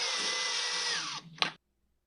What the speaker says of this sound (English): We'll get the screws started here.